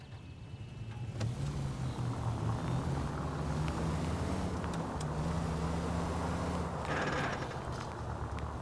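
Car engine humming steadily while driving in L.A. Noire, a continuous mid-level drone with shifting pitch and road rumble, no talk.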